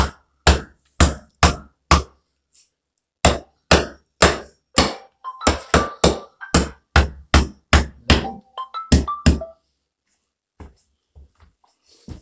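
A hammer drives a piece of a mobile home shower kit into the wall studs with about twenty sharp, loud, close blows, steady at first and then quicker, before a few faint taps and a quiet stretch.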